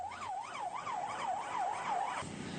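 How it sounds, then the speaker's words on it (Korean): Fire truck sirens wail on a fire call, a loud close rising-and-falling electronic siren cycling steadily for about two seconds, with engine and road noise underneath until it cuts off. "출동 지령과 함께 소방차들이 화재 현장으로 달려갑니다"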